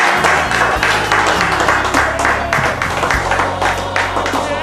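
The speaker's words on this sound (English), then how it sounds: "I want to applaud Deacon McLeod." Loud, dense applause from a church congregation, steady clapping throughout with a low hum underneath.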